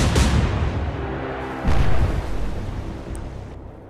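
Destroyer guns firing in the naval video game Atlantic Fleet, a loud booming blast at the start followed by a second heavy report midway, each rolling off into a low rumbling tail with no talk.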